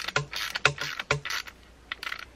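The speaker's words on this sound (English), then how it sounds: "I think I'll tighten that down with a socket to make sure it doesn't come back out" A socket ratchet tightens a cable connection on micro hydro electronics, producing three close, quick clicking bursts followed by a fainter short run of clicks, with no talk.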